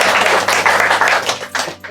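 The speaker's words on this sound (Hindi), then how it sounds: "ताली बजाओ इसके लिए।" An audience at a religious discourse breaking into clapping, a loud dense burst of many hands that fades toward the end.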